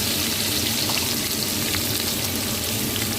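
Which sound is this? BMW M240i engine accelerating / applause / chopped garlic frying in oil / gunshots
chopped garlic frying in oil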